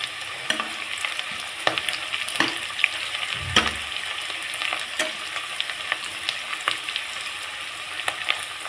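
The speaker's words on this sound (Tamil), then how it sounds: "வரமிளகாய், கருவேப்பிலை போட்டு நல்லா வதக்க விட்டுக்கோங்க." Dried red chilies and curry leaves sauté with onions for a mutton gravy, making a steady frying hiss punctuated by sharp clacks of a spoon stirring against the pan.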